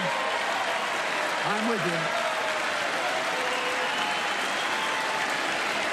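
Members of Congress at the State of the Union send up a sustained wash of applause and cheering that fills the hall, while a speaker's voice continues over it.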